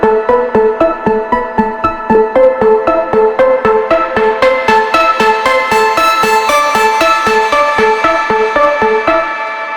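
A bright, clean synth lead plays a fast staccato melody an octave up, with evenly spaced plucked notes in a steady rhythm, loud and upfront with no voices.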